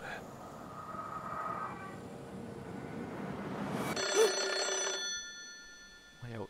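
A telephone rings in the horror video game Hollow Cocoon, a sustained electronic trill heard midway and fairly clear over dark ambient game sound, with a person talking earlier.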